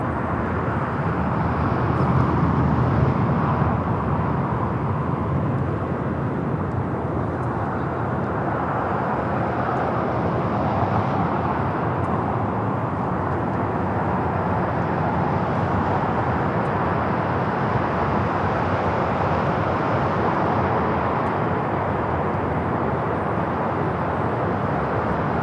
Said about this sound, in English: up next is the Qantas. Coming from Sydney, flight 11.